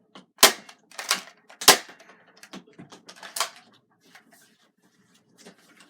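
A Nerf gun fires foam darts at targets during practice, giving several sharp pops and smacks early on, followed by softer scattered clicks and taps that fade toward the end.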